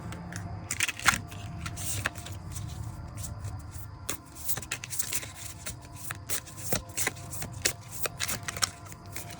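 Tarot and oracle cards shuffled by hand in a steady run of crisp, papery riffles and slaps, fairly close and continuous with no talking.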